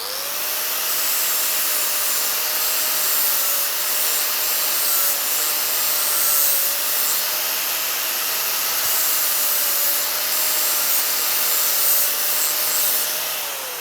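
A worn-down tool scrapes steadily across a cut pipe end to remove burrs, making a continuous loud abrasive rasp with a faint whine that holds for over ten seconds, close up and without talk.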